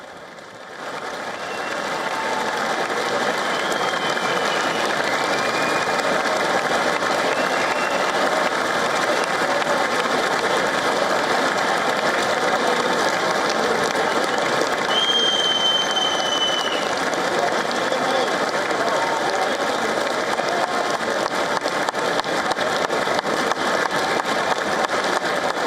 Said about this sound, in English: coming into a loud round of applause